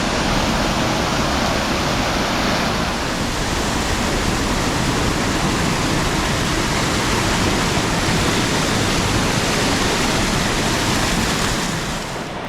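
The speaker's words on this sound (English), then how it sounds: "So we're actually back now to having a reasonably nice waterfall to look at." A waterfall swollen after heavy rain roars as a steady, dense wash of noise, loud and close, unbroken throughout.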